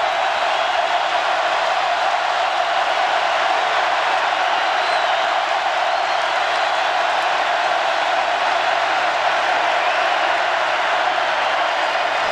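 Dense, steady roar of a packed stadium crowd cheering at a 2018 Georgia vs LSU college football game on a third down, loud and unbroken throughout with no distinct individual voices.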